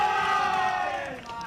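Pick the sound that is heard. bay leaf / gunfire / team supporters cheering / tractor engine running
team supporters cheering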